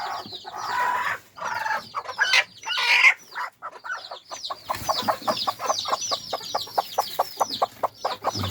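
A hen clucks in a rapid, rhythmic series close up, with soft peeping chicks in the background and brief pauses between bursts.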